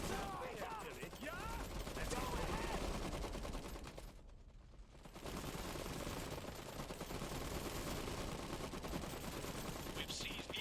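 Gunfire from the real-time strategy video game Iron Harvest, dense continuous bursts of shots across the clip with a brief lull in the middle, loud and busy.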